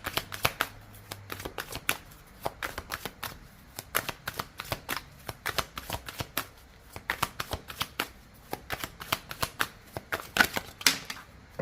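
Oracle cards shuffle in rapid, crisp riffling bursts, close and fairly quiet, repeating unevenly with no voices.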